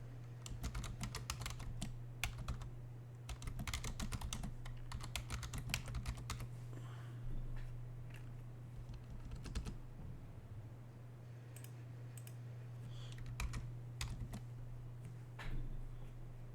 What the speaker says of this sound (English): Everybody push escape key to get out of it.